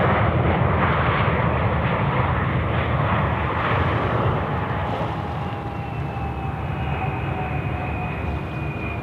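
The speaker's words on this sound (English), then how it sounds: "In there's the Jetstar 401 inbound from the Gold Coast" A Jetstar Airbus A320 arriving at Sydney Airport from the Gold Coast gives a loud, close, continuous jet roar with a high engine whine that gradually drops in pitch, and no talk.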